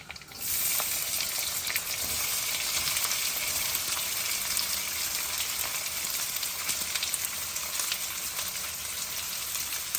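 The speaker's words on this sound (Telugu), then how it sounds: "ఆవాలు చిట్పట్ మంటున్నాయండి అదిగో సౌండ్ వస్తుంది కదా" Mustard seeds and onions sizzle and crackle in hot oil as a curry base for chicken liver curry, with a steady loud fry running throughout and scattered sharp pops, with no talking.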